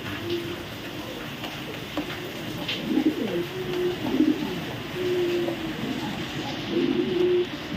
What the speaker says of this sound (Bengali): এখানে আছে একটা ব্লু বার্লেস চুইটাল রেসার কবুতর, অরিজিনাল বেলজিয়াম ব্লাডের কবুতর